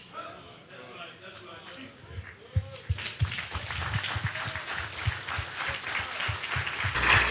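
Applause and clapping from a church congregation during a sermon swell after a few seconds into a sustained, fairly loud patter, while the preacher's voice keeps talking over it.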